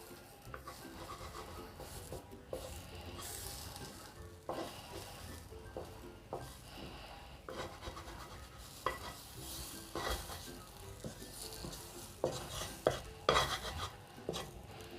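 Shrimp paste dry-roasts in a pan, sizzling, with scraping and stirring sounds and occasional clinks of a utensil against metal, close and fairly quiet.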